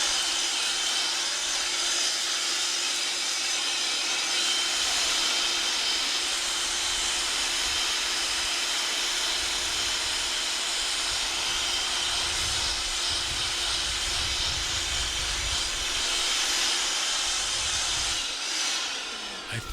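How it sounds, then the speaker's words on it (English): A leaf blower clears dry leaves around a campfire in a forest campsite. A continuous, fairly loud, airy hiss and whine holds steady throughout. "grab this leaf blower and clean up around the campfire"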